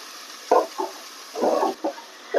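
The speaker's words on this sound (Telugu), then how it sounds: "ఇప్పుడు దీనిలో ఉన్న పచ్చిదనం అంతా కూడా పోయేలాగా ఈ మసాలా పేస్ట్ని వేయించుకోవాలన్నమాట" Masala paste for fish curry frying in a pan: a few short sizzling bursts and stirring scrapes over a faint, steady background hiss, close by, with no voices.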